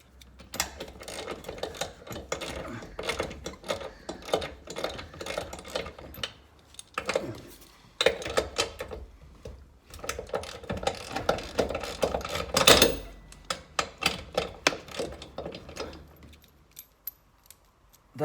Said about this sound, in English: now I've got a 17mm socket to take the two bolts off that are holding the motor to the framework